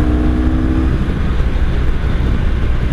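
A 1983 Honda Sabre VF750S motorcycle idles loud and close with a steady low rumble and a slightly tappy valvetrain, a brief tonal hum fading after the first second.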